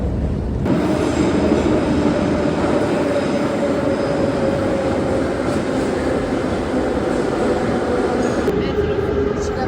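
Steady rumble and hiss of a metro train in motion in Tbilisi, constant and loud throughout, with a faint tonal whine.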